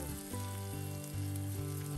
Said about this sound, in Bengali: পেঁয়াজগুলোকে খুব ভালো করে নেড়ে চেড়ে ব্রাউন কালার করে নিব